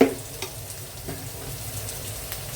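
Clam meat seasoned with Kashmiri chili powder and garam masala fries in a pan with a soft, steady sizzle, broken by a few scraping stirs and clinks near the start, no voices present.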